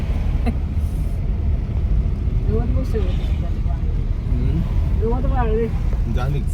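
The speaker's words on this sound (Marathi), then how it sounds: "पाहू इकडे गाडी चालय" A car runs on a road near Arthur Seat Point in Mahabaleshwar with a steady, fairly close engine and road rumble throughout, while people talk over it.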